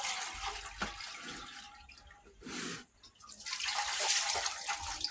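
Running water pours and splashes as corn is rinsed in a colander, a steady wash of flow with a brief break in the middle before it resumes, close by and with no talking.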